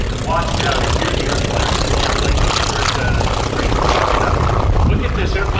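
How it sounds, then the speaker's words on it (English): A light aircraft touches down at show center during EAA AirVenture Oshkosh in gusty wind, its propeller engine droning steadily in the distance beneath crowd noise and someone talking nearby. "Look at this airplane just touching down here at Show Center."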